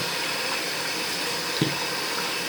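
Tap water runs steadily into a pot holding frozen goat meat, a continuous close splashing stream with a single faint knock partway through.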